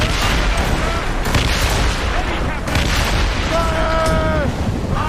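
Ship cannons fire in a naval battle in Assassin's Creed Rogue, dense booming blasts rolling over continuous roaring battle noise, with shouted commands heard in the mix.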